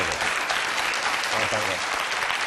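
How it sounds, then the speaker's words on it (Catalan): A studio audience applauds after a Catalan radio and TV commentary segment, a brief, dense burst of clapping heard close and loud throughout, with a voice briefly audible over it. "Aquest aplaudiment per Antoni Bassas."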